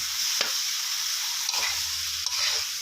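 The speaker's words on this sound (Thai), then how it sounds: "ผัดให้ คลุกเคล้าให้ทั่วนะครับ ให้พริกคลุกเคล้ากับผัด ผักให้ทั่วนะครับ" Fresh shrimp, vegetables and chili stir-fried in a pan for a mala dish, giving a steady close sizzle broken by a few quick scraping stir strokes, with no voices.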